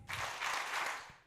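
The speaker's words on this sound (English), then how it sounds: "Three claps." Live youth-conference audience breaks into a short burst of claps, dense and roomy rather than three clean separate hits, fading out after about a second.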